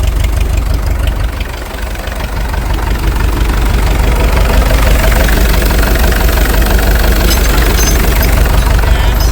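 An International TD-6 crawler tractor's gas engine idles steadily nearby, a loud, continuous low rumble with a slight uneven knock and no talking.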